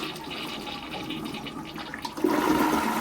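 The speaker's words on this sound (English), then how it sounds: "let's see if we can repeat that flush" A hotel bathroom toilet flushes nearby, a rising rush of water that surges louder partway through and carries on as a steady gurgling drain.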